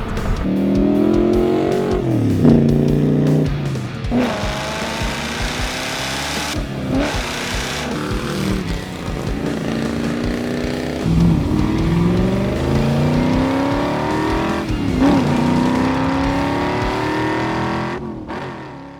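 A 1969 Chevrolet Corvette Stingray engine revs loudly and close up, its pitch rising and falling in repeated throttle blips over a steady, rumbling idle, with no talking.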